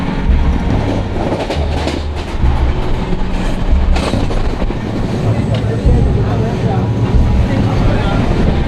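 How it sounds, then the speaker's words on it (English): Steady rumble and rhythmic clatter of a passenger train running on rails in India, heard from inside, with periodic thumps of wheels over track joints. "Here we are on the train, this beautiful, beautiful train."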